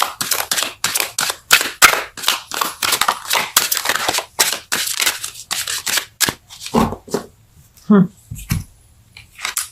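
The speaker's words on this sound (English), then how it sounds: "Let's pull challenge card." Tarot cards are shuffled and pulled during a love reading, a run of quick, close, crisp riffling snaps and taps in an uneven rhythm, with brief softer handling sounds near the end.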